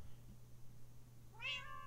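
A small cat meows in the Minecraft video game, a single rising-then-falling call near the end over a steady low hum, with no talking.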